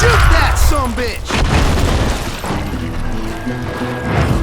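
Gunshots in Call of Juarez: Gunslinger, heavy booming shots and crashes under a shouting voice and tense game score, loud and close.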